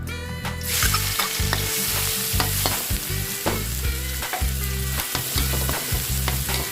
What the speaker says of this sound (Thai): ก็คั่วเป็นพริกกระเทียมหอมได้ที่นะครับ